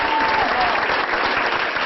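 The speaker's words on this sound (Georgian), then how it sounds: "სოფი ლორენმა ძალიან ხანგრძლივი აპლოდისმენტები დაიმსახურა" Sustained applause from a large audience honouring actress Sophia Loren, a dense, steady wash of clapping that holds loud and even throughout without pause.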